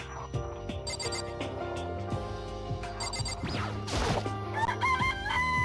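A chicken in the Danganronpa video game crows and clucks over background game music, with a loud crow rising in the middle and chime-like tones near the end.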